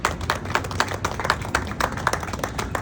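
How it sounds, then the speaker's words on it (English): Scattered hand clapping from a crowd at a La Mesa Oktoberfest press conference, irregular sharp claps of moderate loudness, somewhat distant, with no speech. "give them a round of applause, please"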